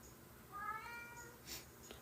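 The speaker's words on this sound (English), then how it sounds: "My cat is trying to say hello again." A house cat gives a faint, short meow that rises and falls, with a second quieter chirp soon after, over a low room hush.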